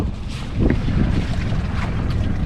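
Strong gusty wind, around 16 to 18 knots, roars steadily across the microphone aboard a 28-foot sailboat moored at a dock, a constant broadband rush with a louder surge after the first half second and no voices.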